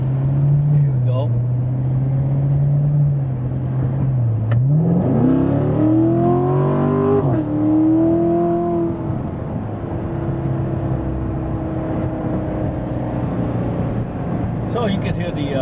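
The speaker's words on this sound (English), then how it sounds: "you can hear the exhaust. I mean, it's pretty aggressive sounding. It pops, burps" A 2016 Corvette Z51 with an aggressive exhaust revs, the engine note climbing and falling, then settles into a steady drone, loud and close throughout.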